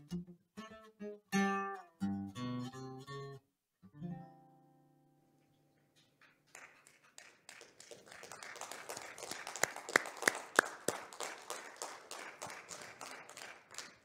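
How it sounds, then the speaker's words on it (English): Audience applause at a live stage show, a burst of scattered clapping that builds and carries on for several seconds after singing and music fade out. "Let's have another round of applause"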